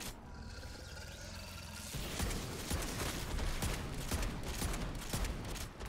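Reclaimer 18 shotgun fire in MW3 Zombies arrives as a run of sharp, close bursts after a quieter opening, loud repeated shots layered over mechanical game noise.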